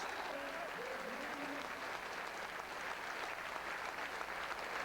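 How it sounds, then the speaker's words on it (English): A football crowd at a Northampton match applauds steadily as a substitute comes on, with a broad, constant wash of clapping from the stands, fairly distant, while a voice speaks faintly underneath. "The applause there as Duncan Spedding comes on for Northampton"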